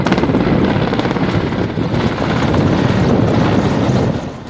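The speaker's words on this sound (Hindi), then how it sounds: "सेना का MI-17 हेलीकॉप्टर लगातार पानी का छिड़काव कर आग बुझाने में लगा है" An Army Mi-17 helicopter spraying water over a forest fire in Uttarakhand produces a loud, steady rotor and engine roar with rhythmic blade thumping, then fades slightly at the end.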